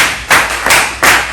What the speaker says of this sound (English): Sure, she's done very well. Clap for her.